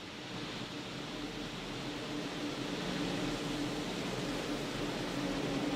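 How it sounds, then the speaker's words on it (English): A steady hiss of gases venting from the feed lines of a Falcon 9 rocket on the launch pad before a crew launch. It holds as a continuous broadband rush, distant and unchanging, with no voices. "you could even hear some of those gases being vented"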